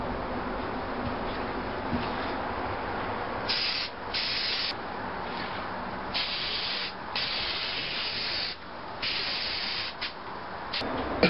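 Aerosol spray paint hisses onto a motorcycle brake disc in repeated close bursts, each a few seconds long, separated by short pauses.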